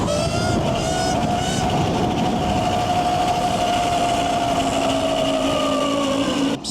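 A 72V electric pit bike makes a steady, loud whine with rising tonal harmonics as it races down a drag track, continuous and close throughout with no talk.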